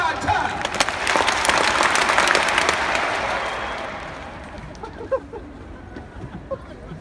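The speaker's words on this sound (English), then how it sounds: "If you love this company and you love this brand, clap 5 times." Live audience at a large company convention clapping in unison, a dense loud burst of applause that swells for about three seconds then thins out into scattered faint claps.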